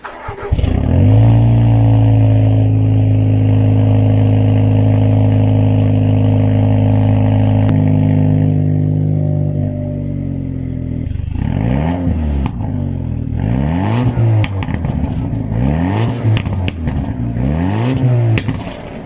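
Jaguar F-Type at Santa Pod drag strip, engine idling with a steady drone, then revving repeatedly in rising and falling bursts, loud and close.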